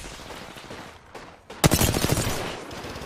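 Automatic gunfire from an Apex Legends esports tournament match, starting as quieter scattered shots and breaking into a loud, dense burst of rapid fire midway that continues to the end.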